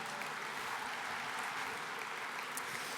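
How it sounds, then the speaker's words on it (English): Steady, fairly faint applause from a banquet audience at an engineering awards gala, a dense even wash of clapping with no single claps standing out and no voices. "How about a round of applause to kick everything off tonight"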